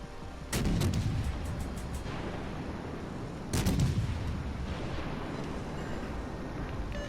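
Heavy naval guns firing in the World of Warships Legends video game, two deep booming salvos a few seconds apart, each followed by a long rumbling roar, with no talk over them.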